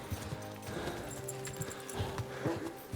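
A horse's hooves clip-clop in a steady walking rhythm in Kingdom Come: Deliverance 2, fairly quiet and close, with faint jingling tack and no talking.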